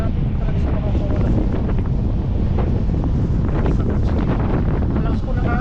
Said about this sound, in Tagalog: Malakas po ng hangin.